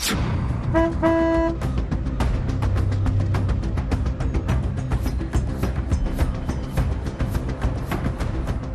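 A car horn toots a couple of short blasts near the start, followed by steady rumbling traffic and repeated clicking sounds.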